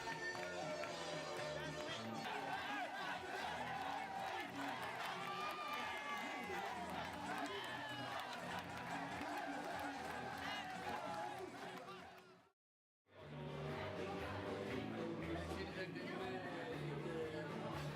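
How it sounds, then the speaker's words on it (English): A large crowd cheers at an NLD election victory celebration, a steady roar of many voices broken by a brief cut of silence, then resuming at full strength. "the crowds cheered on, growing more exuberant by the hour"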